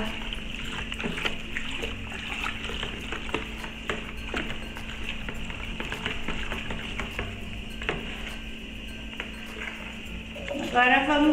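About 1.5 litres of water poured into a homemade disinfectant mixture of detergent for removing pet urine odour, a long steady trickle with faint clinks, swelling into a louder splash near the end.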